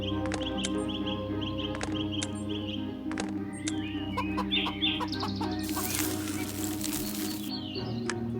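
A chicken clucks in the Lost Lands 10 puzzle adventure game, a few short clucks over a steady layer of game music and ambient tones, with no talk.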